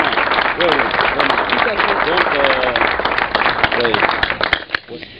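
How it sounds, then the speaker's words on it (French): Audience applause for a team, heard as a dense, loud wash of clapping with voices carrying over it, thinning out near the end. "je pense que ça mérite quand même un applaudissement pour cette équipe qui vous accompagne"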